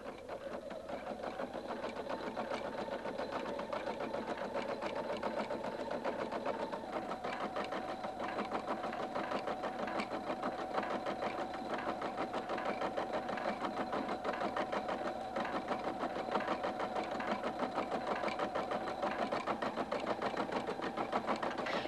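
A Husqvarna Viking Designer 1 sewing machine stitching out an embroidery design, a steady rapid mechanical whirr and needle patter that runs unbroken and close, with no talk over it.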